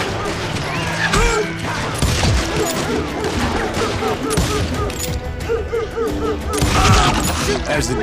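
Gunfire in Call of Juarez: Gunslinger rattles in dense, continuous volleys, with rapid overlapping shots, crashes and clatter over a busy battle din that stays loud throughout.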